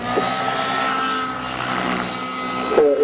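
A helicopter piloted at an air show in Lipenec flies past with a loud, continuous rotor and engine drone, steady throughout with a brief swell at the end.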